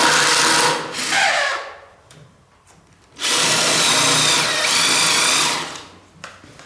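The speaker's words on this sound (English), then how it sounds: "I'm going to go ahead and get my holes countersunk." Power drill countersinking screw holes in the wood of a raised bed planter, two loud close bursts of whirring and grinding bit against wood with a short quieter gap between them.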